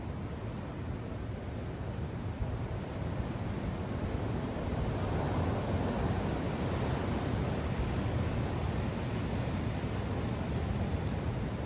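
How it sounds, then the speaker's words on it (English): Strong, steady wind during Storm Daragh roars across the microphone as a dense broadband rush, swelling slightly in the middle with no pauses. "Getting some real big gusts coming through now."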